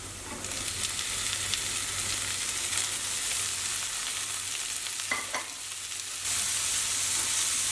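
Tomatoes tossed into a pan of browned ingredients fry with a steady, even sizzle that holds throughout, with a couple of brief clinks of a stirring utensil partway through and no voices.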